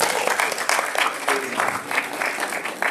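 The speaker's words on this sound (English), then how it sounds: "We're clapping because we want you to wrap it up." Audience members applaud at a Boston District 7 city council candidate forum, a dense sustained clapping from a crowd in a hall that carries steadily through the whole stretch.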